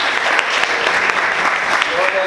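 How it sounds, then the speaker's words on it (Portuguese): A church congregation claps together in sustained, dense applause during a worship service, with scattered voices mixed into the steady clapping throughout. "Vamos aplaudir Jesus com bastante alegria."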